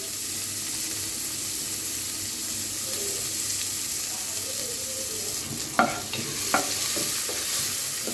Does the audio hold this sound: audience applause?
no